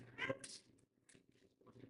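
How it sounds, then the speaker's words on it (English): A cat meows a couple of times at close range indoors, short and fairly soft, with faint room noise between calls. "And the cat is meowing."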